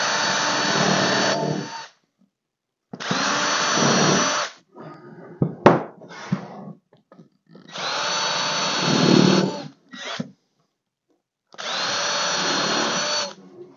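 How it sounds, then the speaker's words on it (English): A power drill boring into a 2x4 wood board, in four loud whirring bursts of about two seconds each, separated by pauses, with clattering handling noises in between. "So I'm going to drill from my mark"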